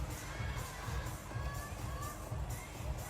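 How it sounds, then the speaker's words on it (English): Crowd in the Infinity Arena at a women's table tennis quarterfinal stirs and cheers, a steady murmuring roar with rising shouts and surges, heard from within the stands with no talk over it. "the crowd stir even more here in the Infinity Arena"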